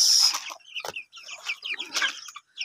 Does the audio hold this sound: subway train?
no